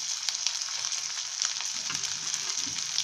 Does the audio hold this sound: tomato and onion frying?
yes